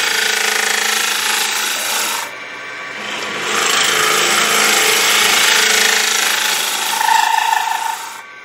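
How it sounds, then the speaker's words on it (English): A woodturning scraper cuts into a punky wood blank spinning on a lathe, a loud continuous raspy scraping that shifts in pitch and intensity as the tool is moved, without any talk. "If I tilt the scraper up and then bring it down, I can pretty well start that center."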